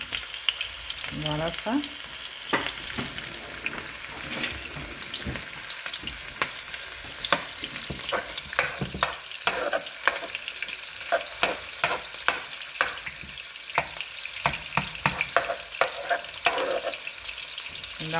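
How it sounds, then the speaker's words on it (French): Onions frying and being stirred in a pan for homemade mashed potatoes, a constant loud sizzle with repeated scraping and clacking of the stirring utensil, and a brief voice early on. "Nous allons faire revenir nos oignons."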